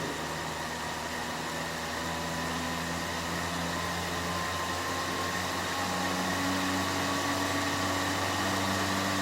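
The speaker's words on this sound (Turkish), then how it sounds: "ben frekansı yükselttikçe motorun hızı da değişiyor" An AC motor running on a frequency speed controller, a steady loud hum and whine that holds constant through the stretch with faint tonal lines slowly rising as the speed increases.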